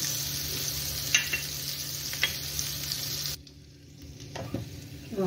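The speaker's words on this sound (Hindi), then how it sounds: "इसको धीमी धीमी आंच पे बढ़िया से सेकने दीजिए तो ये अंदर तक पक जाता है।" Brinjal slices sizzle steadily on a tava over a low flame, a constant crackling fry with a few soft scraping stirs, quieting briefly before the sizzle resumes.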